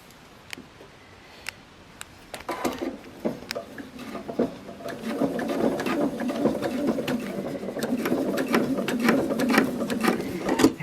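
A sewing machine stitches fabric pattern pieces together, starting with a few scattered taps and then running in a steadier, busier mechanical whir that is close and moderately quiet.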